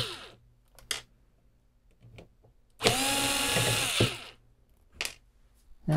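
A power screwdriver whirs for about a second and a half as it backs out the last screws from a Sony power supply inside an Apple HD20SC hard disk. Sharp clicks and small metallic taps come before and after the whir.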